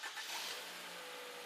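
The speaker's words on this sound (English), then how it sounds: "Start the engine." A car engine starts during a fuel injection service with a cleaning tool hooked to the fuel lines, a quiet crank catching into a rising rev, then settling into a faint steady idle, heard alone.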